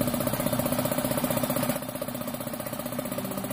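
A 1 hp air compressor that only hums when switched on, running as a loud, close, throbbing mechanical drone whose pitch and level drop slightly midway, with no speech.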